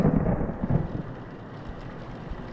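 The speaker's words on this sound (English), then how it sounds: "why is it raining?" Rain falls with low rolling thunder rumbling through a dark setting in the horror video game The Mortuary Assistant, loud at first and then easing to a steady wash.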